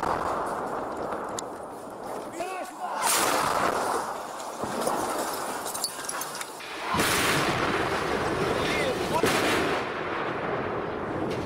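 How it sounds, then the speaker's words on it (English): Artillery and heavy weapons firing on front lines in Ukraine, loud repeated booms and crackling gunfire over a continuous rumbling roar, heavy and close throughout. "Ukrainian tanks, artillery and heavy weapons are back on the front lines, dueling to the death with anti-government forces."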